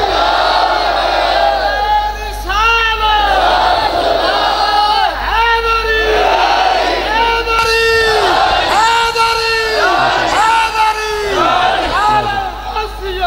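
A large crowd at a religious gathering in Pakistan roars slogans back in loud, rhythmic unison, repeated shouted calls rising and falling every second or so, close and forceful throughout.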